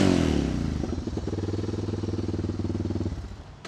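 A freshly repaired Suzuki motorcycle engine idles close by with a rapid, even pulsing thump for about three seconds before cutting off, leaving a brief faint tail.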